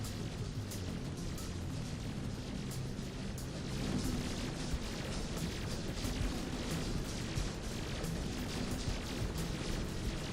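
Mortar fire in the video game Sir, We Have an Orc Problem, a dense, continuous barrage of booms and bursting pops blending into a steady roar, with no voices.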